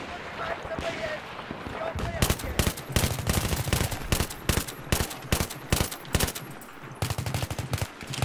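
Rapid automatic gunfire in Battlefield 3, bursts of sharp, loud shots repeating in a fast rhythm for most of the stretch, with voices talking over the shooting.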